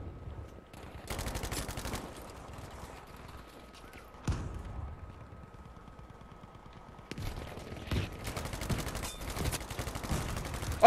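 Battlefield 5 gunfire on PS4 crackles in rapid automatic bursts, with a sharp loud stretch early, a single heavy crack midway, then longer dense volleys toward the end over a low game background.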